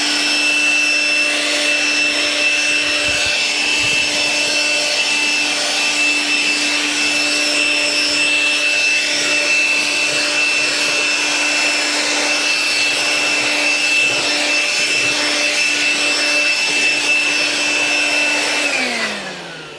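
Milwaukee M12 cordless hand vacuum fitted with a wide nozzle picks up dirt, a loud steady whine with a constant pitch running close for nearly twenty seconds before the motor winds down at the end, no talking.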